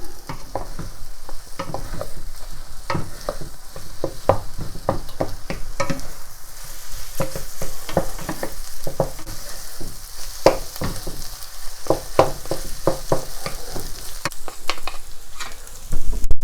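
Egg seasoned with fish sauce stir-frying with bitter melon, a close steady sizzle broken by frequent irregular scrapes and taps as a spatula folds it over in the pan.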